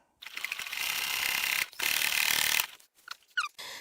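A sewing machine runs a close line of stitching about one to two millimetres from the edge of a child's skirt hem, finished with fuchsia and pink piping. It makes two sustained mechanical runs separated by a short pause, followed by a few brief ratcheting clicks.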